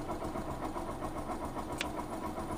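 A car engine idling while warming up, a low steady rumble with an even pulsing beat, heard fairly close with no talk.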